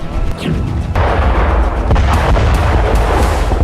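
Rocket and missile blasts from the Lebanon-Israel conflict, a loud sustained roar of heavy booms and rumbling, with sharp cracks at several points, close and dense throughout.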